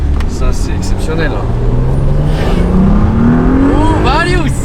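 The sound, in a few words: Renault Clio V6 engine sound from the rear while driving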